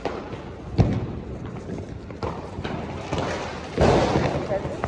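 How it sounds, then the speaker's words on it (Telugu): Diwali firecrackers burst outdoors during a night celebration, giving several sharp thuds and bangs spread through a steady crackling background, with people talking nearby. "అక్కడ నాన్న క్రాకర్స్ కాలుస్తున్నారు"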